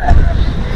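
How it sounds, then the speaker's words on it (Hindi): Strong gusting wind of a dust storm sweeps across an outdoor animal market, a steady loud rush buffeting the microphone throughout the short moment. "हवा बड़ी तेज है,"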